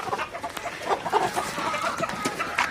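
Desi chickens clucking on a poultry farm, a steady run of overlapping clucks and squawks from a flock close by, with no talk over them.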